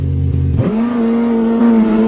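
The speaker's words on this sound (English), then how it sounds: "we're going to have to rev it and see what it sounds like" A car engine in BeamNG.drive, modelled on someone's first car, idles and then revs sharply, settling into a loud, steady, close-up drone.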